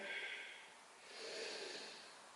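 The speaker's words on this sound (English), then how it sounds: "I'm going to take a few deep breaths here." A person resting in yoga child's pose takes a slow, deep breath, one soft airy inhale flowing into a long exhale, close and quiet with no talking.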